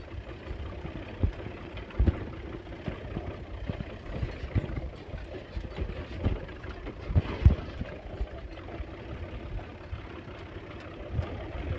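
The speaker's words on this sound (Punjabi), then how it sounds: "ਟਰੈਕਟਰ ਪਾਣੀ ਦਾ ਲੰਘ ਰਿਹਾ ਜੀ, ਤੇ ਆਹ ਰੋਡ ਤੇ ਚੜ੍ਹਨ ਲੱਗਿਆ" A tractor on a Punjab farm rumbles at low, steady engine pitch as it crosses a water-filled channel and climbs onto a road, with irregular thumps and bumps over the drone and no voices.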